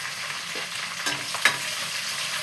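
Curry leaves sizzle in hot oil with a soft, steady crackling hiss, broken by a few brief sharper spits and stirring clatters, with no voices.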